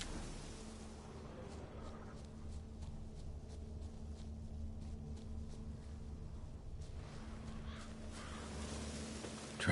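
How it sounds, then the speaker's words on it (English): Crows caw in The Witcher, a series of short harsh calls repeating over several seconds at moderate distance above a steady low wind-like ambience, with no one talking. "All I gotta do is follow the cawing."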